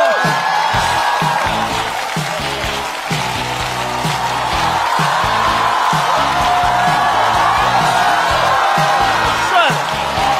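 Studio audience at a Chinese stand-up comedy competition show applauds and whoops as a finalist comedian is introduced, a loud dense wash of clapping and cheering lasting throughout, with music-like tonal layers underneath.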